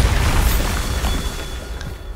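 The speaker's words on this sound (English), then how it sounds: "Seems kind of wrong blowing up ancient stones, but I guess that's what we have to do." A Bombarda explosion spell in a Harry Potter video game blows apart ancient stones, a loud low booming blast with rumbling debris that fades over about two seconds.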